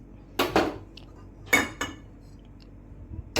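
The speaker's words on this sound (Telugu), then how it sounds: "ప్యాన్ పెట్టుకొని తగినంత ఆయిల్ వేసుకోవాలి" A metal pan is set onto a home kitchen stove before frying ladies finger (okra), giving several sharp clanks and clatters spaced apart, fairly close, with no talking.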